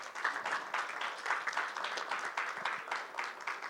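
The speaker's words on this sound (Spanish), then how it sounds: "Dele un aplauso al Señor, pues" A Spanish-speaking church congregation claps during a Sunday service, producing a moderately quiet, steady patter of many hands that continues evenly throughout.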